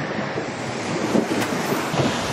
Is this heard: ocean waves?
yes